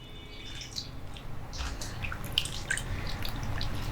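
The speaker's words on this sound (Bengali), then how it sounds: "আবারও এতে বেশ খানিকটা জল দিয়ে দিচ্ছি।" Water poured into a bowl of soaked soybean chunks, a steady wet trickle with scattered drips and splashes, close and fairly quiet, continuing throughout without speech.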